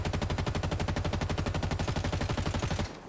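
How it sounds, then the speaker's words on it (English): A video game assault rifle fires on full auto in a fast, even stream of loud, close shots until the magazine runs dry, and the firing cuts off sharply into quiet. "I'm going to do just a full auto, fire the gun until the clip is empty"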